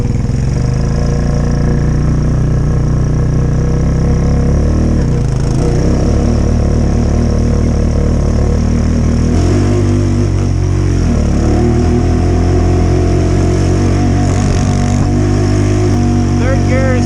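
A Honda Rubicon ATV engine runs loud and continuous while riding through deep snow among cedars, holding third gear with uneven revving that rises and falls, close to the rider.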